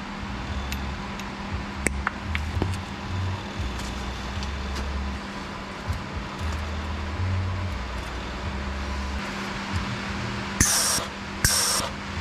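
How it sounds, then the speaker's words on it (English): Shielding gas flowing from a welding setup in a workshop, building a utility box for a pickup: a faint steady hiss for most of the time, then two short, sharper bursts of hissing near the end. "I'm gonna turn the gas on, make sure there's no leaks"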